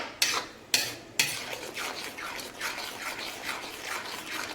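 Red sauce pasta being stirred in a pan with a utensil, giving a few sharp scraping strikes at the start, then a steady run of soft, rhythmic swishing and scraping sounds, fairly close, with no talking.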